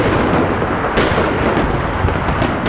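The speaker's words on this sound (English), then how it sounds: "there's fireworks as far as the eye can see" Dense fireworks bursting all across Los Angeles on the Fourth of July, a continuous loud rumble of overlapping booms and crackles with a sharper blast near the start.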